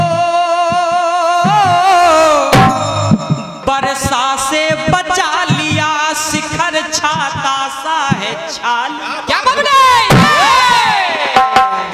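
An audience at a live Hindi jawabi stage show cheers and shouts loudly, a dense, energetic mass of voices that rises and falls across the whole stretch.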